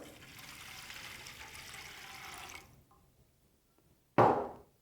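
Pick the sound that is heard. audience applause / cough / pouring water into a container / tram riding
pouring water into a container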